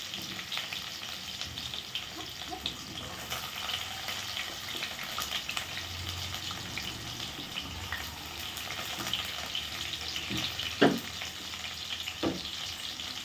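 Onion pieces fry in a pan with a continuous, even sizzle, close and steady throughout, with a couple of faint knocks near the end.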